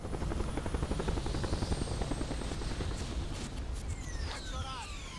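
A helicopter in the video game Narco Terror thrums with a steady, rapid rotor chop that fills the whole stretch, close and moderately loud, with faint chirping game effects near the end.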